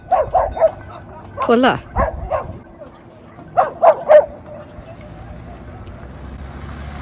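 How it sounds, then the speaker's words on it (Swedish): A guard dog barks at passing cars outdoors in Greece, a series of sharp yips and woofs in two bursts, fairly close, with a person briefly speaking. "För han flyger på bilarna och börjar skälla."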